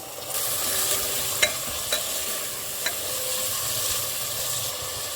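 Spices and peas stirred in a hot pan for pulao, a steady close sizzle with a few light clicks of the spoon against the pan, no voices.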